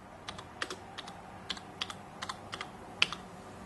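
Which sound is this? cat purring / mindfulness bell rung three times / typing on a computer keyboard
typing on a computer keyboard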